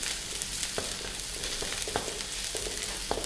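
Ginger, garlic and green chilies sizzle in smoking oil, a dense continuous frying hiss up close, punctuated every half second or so by sharper spatters and spoon clicks.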